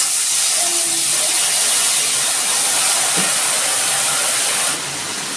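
Water splashed into hot oil with dry red chilli, cumin seeds and turmeric, giving a loud, steady, close hiss that holds for several seconds and then drops off sharply near the end.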